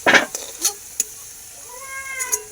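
Pointed gourd frying in hot oil with salt, a sizzle with a few sharp utensil scrapes against the pan, and a brief high meow-like tone near the end.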